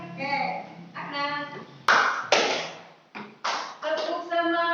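A school class performs the 'tepuk semangat' rhythmic clap routine, sharp group claps and chest pats in bursts between stretches of children's voices, loud and close.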